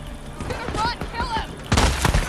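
Gunfire in the open-world zombie game Days Gone: a sharp, loud burst of shots that lands near the end, with someone talking excitedly over the game audio before it.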